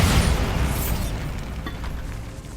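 A Bombarda explosion spell goes off in the video game Hogwarts Legacy inside a tomb, a loud booming blast that rumbles and decays into a long fading roar.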